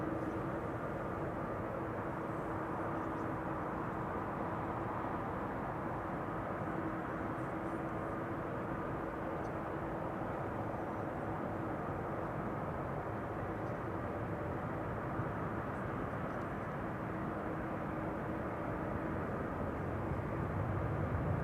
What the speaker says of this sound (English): KLM Cargo, just having taken to the sky via the center runway.